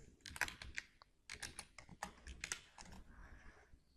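Names being typed on a computer keyboard in Microsoft Word, a quick irregular run of close, crisp key clicks with brief pauses between bursts, no talking.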